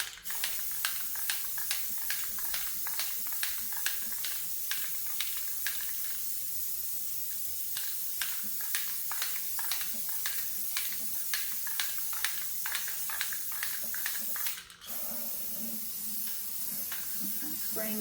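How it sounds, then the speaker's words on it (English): A spray can hisses paint down inside an outdoor vase in rapid, regular short bursts, a dense run of bright hissy pulses, with a brief louder blast near the end. "spraying down inside a little bit too."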